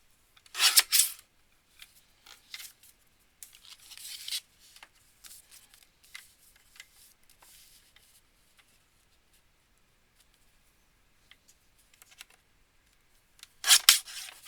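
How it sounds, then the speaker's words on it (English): Scissors snip small paper cards, with a loud cut at the start and another at the end, separated by faint rustling and handling of paper. "I want to cut these two little cards down."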